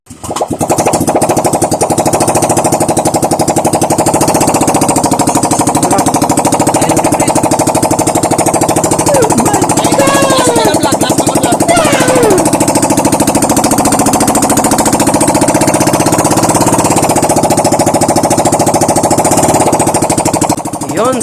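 Loud, raw rattling of a flood-damaged Honda Click 125 or Yamaha NMAX 155 scooter engine running unmuffled, a harsh rapid chatter that never lets up.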